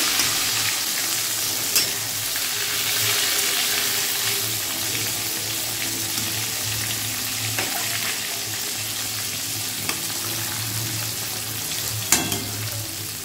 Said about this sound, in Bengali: আর এখানে এই যে তেল গরম হয়ে গেছে, এই বেগুন ভাজা করব।